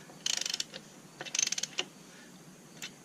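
Ratchet snugging wheel spacer nuts on a Kubota tractor, two quick bursts of rapid clicking followed by a single later click, close and crisp against a quiet background.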